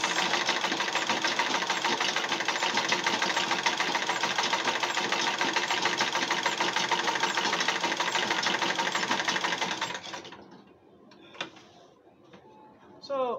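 A sewing machine stitches Ankara fabric and lining for a school backpack, its rapid, even mechanical chatter running for about ten seconds before cutting off to near silence and a few small handling sounds.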